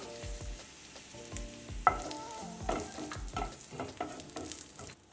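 White sesame seeds fry in a pan with ginger for a drumstick gojju, giving steady close crackling and sizzling along with repeated stirring scrapes and taps of a spoon against the pan, with no talk.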